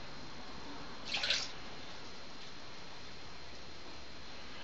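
A short pour of black-and-white 35mm film developer chemical into a small measuring container, a brief liquid splash lasting under half a second before quiet.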